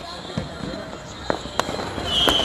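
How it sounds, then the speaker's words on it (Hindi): Fireworks and flying sky candles bursting over Old Delhi on Independence Day: a few sharp pops and crackles ring out over a steady background rumble, with one whistling rocket rising near the end. "इसी तरह से आसमान पर ये आतिशबाजी का नज़ारा पुरानी दिल्ली का है"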